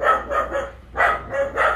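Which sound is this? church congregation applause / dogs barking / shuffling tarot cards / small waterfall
dogs barking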